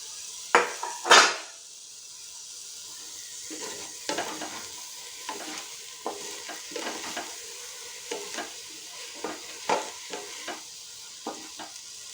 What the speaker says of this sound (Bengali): এই যে ফোড়নটা দিয়েছি তার সঙ্গে একটুখানি ভালো করে ভাজতে হবে।